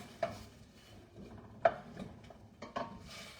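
Celery root being stirred in a pan as its cooking liquid evaporates: a few scattered soft utensil scrapes and clinks against the pan over a low, steady kitchen background, with no talking.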